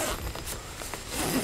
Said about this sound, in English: And then we'll unzip the tent door here.